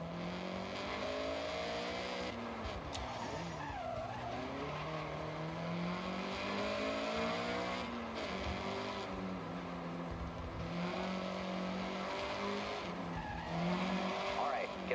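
A Honda CRX races in Forza Horizon, its engine revving and shifting through gears with repeated tire squeals and skids, loud and close for the whole stretch, with a voice speaking over it.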